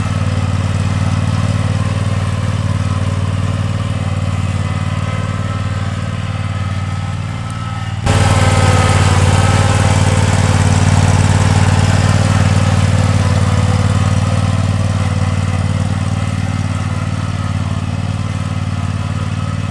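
A commercial zero-turn lawn mower engine runs loud and close while being driven, a steady droning roar that dips briefly and then comes back slightly stronger and deeper.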